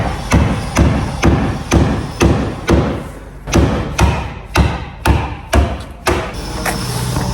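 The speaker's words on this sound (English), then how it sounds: "here's the well-known famous screwdriver and here's the hammer to get this fabulous ugly spoiler off" Repeated heavy hammer blows on the spoiler of an E36 BMW 318i, about a dozen sharp thuds at a steady, unhurried rhythm, close and loud.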